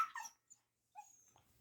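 A puppy about seven weeks old gives a few faint, close, high whimpers and whines separated by short silences, with no talking over them.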